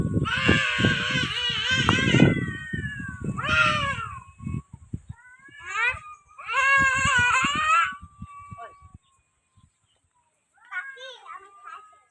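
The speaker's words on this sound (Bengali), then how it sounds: "বিড়ালে" A cat cries with repeated loud, drawn-out meows near the microphone, with people talking between and over the calls.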